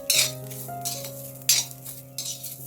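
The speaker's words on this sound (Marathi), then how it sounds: "आता इथे मी ओल्या खोबऱ्याचे जे काप आहेत हे मी छान खमंग भाजून घेणार आहे" Fresh coconut slices roast in a pan for spicy tari misal masala, with a few sharp scraping and clinking strokes of a utensil over a low steady hum; no talking.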